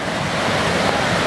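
Water rushing at Asa Dam, a loud continuous roar of churning flow with wind buffeting, steady and close without voices.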